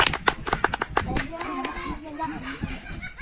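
Classroom clapping, a fast run of sharp claps in the first second, then children's voices chattering as the clapping fades out.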